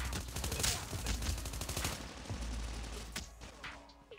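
AK117 MacTavish assault rifle from Call of Duty Mobile, fired in a free-for-all match: rapid, close, steady automatic fire in a long burst that tapers off, followed by a few scattered shots.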